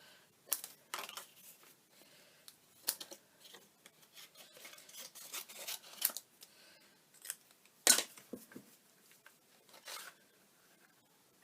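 A craft punch cuts through stiff, thick white card for a Christmas spinning card, giving scattered sharp crunching snaps and rasping scrapes, close and fairly quiet, with pauses between bursts.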